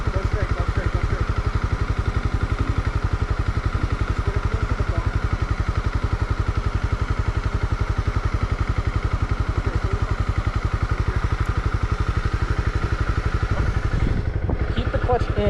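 A Honda CB300R motorcycle engine runs at a steady, low, pulsing idle throughout a beginner's first ride, close and continuous, with people talking over it at times.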